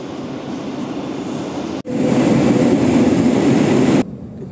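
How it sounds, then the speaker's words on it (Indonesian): A metro subway train in Portugal rumbles steadily nearby, its noise swelling abruptly halfway through into a louder roar before cutting back down. "sekarang kita mau ambil metro atau subway"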